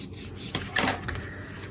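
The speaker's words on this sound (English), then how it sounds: "So now let's burnish." A tool burnishes glued paper down in a papercraft project. It gives a few short, close scraping rubs against a quiet background.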